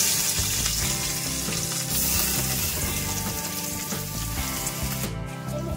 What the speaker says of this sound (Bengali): এই টুকরোগুলোকে আমি ভেজে নিচ্ছি।